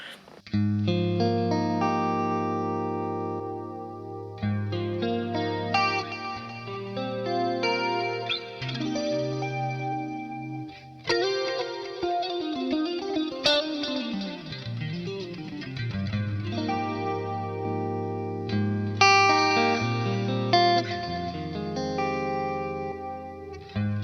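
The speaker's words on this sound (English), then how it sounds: "setting this chorus rate low helps, and you get this kind of thing" Clean-tone electric guitar chords ringing out with a shimmering, warbling chorus effect set to a low rate, slow and steady, with a sweeping swirl partway through; no voices.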